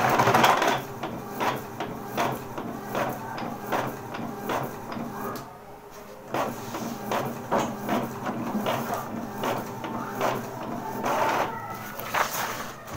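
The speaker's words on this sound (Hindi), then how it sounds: "तो मैं आपको एक बार प्रिंट निकाल के दिखा देता हूँ।" An Epson L380 inkjet printer prints a page, giving a close series of rapid mechanical clicks and whirring carriage passes in bursts, with a short pause midway.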